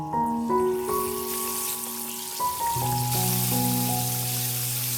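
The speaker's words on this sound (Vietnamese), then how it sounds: "Chờ cho dầu nóng già rồi cho cá vào chiên nha." Fish coated in cornstarch or flour fries in hot oil in a small pan over medium heat, giving a continuous sizzling hiss under a sustained tonal musical backing.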